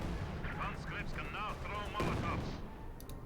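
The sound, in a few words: gunfire in video game Company of Heroes 2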